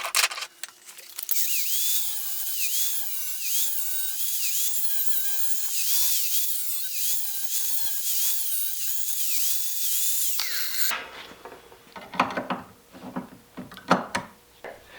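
A power tool whines loudly while cutting a custom wrench shape, with a wavering high-pitched tone for about ten seconds, then stopping, followed by a few scraping and handling knocks.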